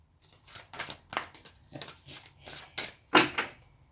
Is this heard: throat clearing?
no